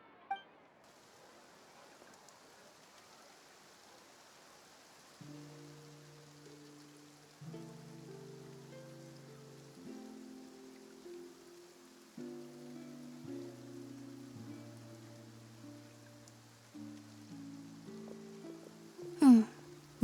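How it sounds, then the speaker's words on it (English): Light rain in Fontaine in Genshin Impact makes a soft, steady hiss under gentle melodic notes, and a sharp bright chime rings out near the end. "Looks like rain."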